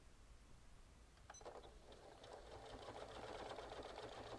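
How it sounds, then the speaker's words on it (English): A Janome high-performance sewing machine starts sewing through six layers of denim, beginning with a few quiet clicks, then a rising, steady mechanical whir of rapid stitching, close and faint. "I'm going to start sewing"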